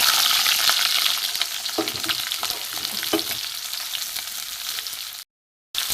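Chopped onion and tomato hit hot mustard oil in a kadai, sizzling and crackling loudly and steadily with stirring scrapes, then a brief silent gap near the end.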